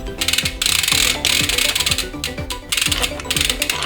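A wrench loosens the rear wheel bolts on a Norco Rampage youth bike, making a steady run of quick ratcheting clicks in repeated bursts, close and fairly loud, with no talking.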